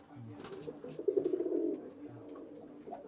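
A pigeon gives a short rolling coo near the middle, moderately close, over a quiet room with faint background noise.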